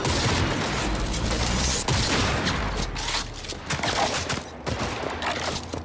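Powered rifle fire in the video game Cyberpunk 2077 crackles in rapid bursts of shots, loud and dense at first, then thinning into scattered cracks and booms over a rumbling background.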